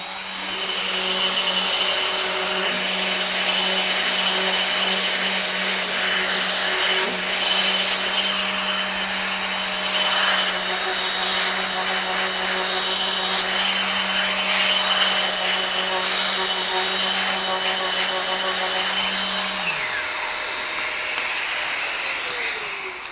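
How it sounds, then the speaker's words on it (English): A Festool ETS 125 compact sander works on wood with a steady, loud motorised whine and hum that holds evenly throughout, then winds down in pitch near the end, with no talking. "with the ETS 125, you have a lot of control over the machine while you're working"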